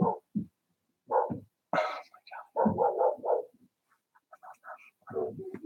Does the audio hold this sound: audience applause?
no